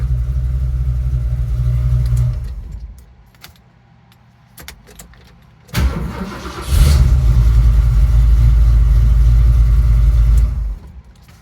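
A 1970 Mach 1 fitted with a new engine and transmission setup rumbles at a steady low idle, cuts out briefly amid a jangle of keys and clicks, then returns with a louder, fuller idle that runs on before stopping.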